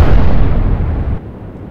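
Heavy naval guns fire in the warship game Atlantic Fleet: one loud, close blast that rolls into a deep rumble and dies away within about a second.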